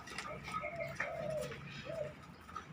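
Cooing calls of a dove or pigeon kept by Thai bird fanciers, a few soft rounded coos repeated at a moderate distance over faint background noise.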